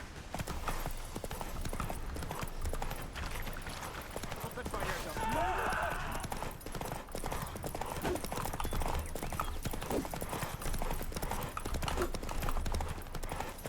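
Roach, a horse in The Witcher 3, gallops in a steady, fast clip-clop of hooves running throughout, with speech over it.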